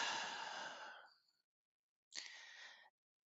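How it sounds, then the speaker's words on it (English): A slow, deep breath, a long airy inhale fading out, then after a short pause a shorter breathy exhale, close and quiet against silence. "Take a deep breath."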